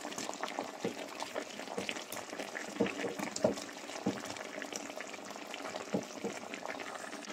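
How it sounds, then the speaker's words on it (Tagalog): Broth poured into a pan of ginataang tilapia with eggplant, a steady bubbling, sizzling liquid wash with small splashes and a couple of louder pops, continuous and close, with no talking. "And then, lalagyan natin siya ng sabaw."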